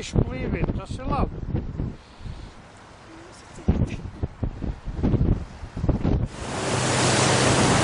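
Gusting wind batters the outdoor microphone and flaps a sail, growing into a steady loud roar in the last seconds, with people talking over the first part.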